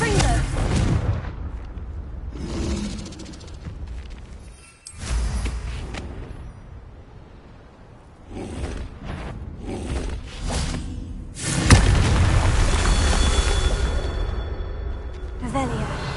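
Booming fiery blasts of the Confringo spell in Hogwarts Legacy, several heavy explosions with rumbling whooshes spread across the stretch, the loudest near the end, alongside spoken voices.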